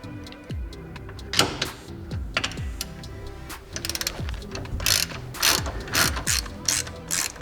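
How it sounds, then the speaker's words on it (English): A ratchet clicks in quick bursts while loosening 19 mm nuts on the differential cover of a Nissan 240SX, with sharp metallic pawl clatter and a few knocks, close and fairly quiet, with no voices. "we're gonna try and loosen these 19 mil nuts at the back of the diff cover"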